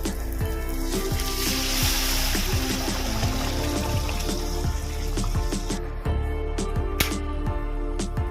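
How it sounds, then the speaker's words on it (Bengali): Warm water poured into a cooking pan of sautéed onion masala with green chillies, making a steady rushing, bubbling pour with soft sizzling that runs unbroken for several seconds, close and fairly loud, with no talking. "একটু উষ্ণ গরম জল দিয়ে দেবো"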